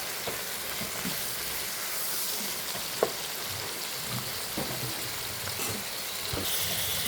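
Eggplant, tomato, green chili and curry leaves sautéing in a pan, a steady crackling sizzle throughout with occasional sharp pops and soft stirring scrapes, close and continuous, without speech.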